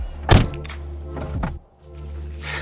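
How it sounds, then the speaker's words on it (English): A heavy door on a 2006 Mercedes-Benz CLS350 shuts with one solid, close thunk, followed by lighter handling knocks and a second softer closing sound near the end. "The doors also feel extremely heavy and solid and close with a very satisfying thud."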